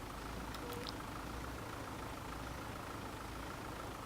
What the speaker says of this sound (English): gently on the gas, because this is quite a sprightly tractor.